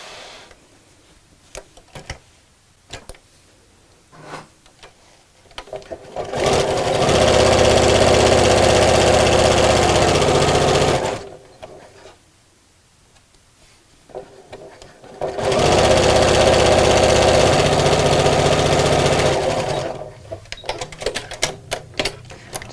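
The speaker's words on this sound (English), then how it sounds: "we're going to sew all the way around" A sewing machine stitches all the way around two fabric pieces in two sustained loud bursts, separated by quieter pauses with fabric handling and small clicks.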